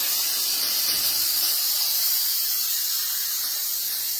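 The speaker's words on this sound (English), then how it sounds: "we press, and it releases the steam." An Instant Pot Duo Plus pressure cooker vents steam through its release valve, a loud, continuous high hiss held steady and close for several seconds.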